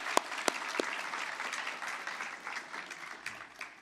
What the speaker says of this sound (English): I would like you to give each other a round of applause already